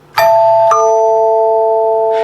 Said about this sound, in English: This is a very nice chime.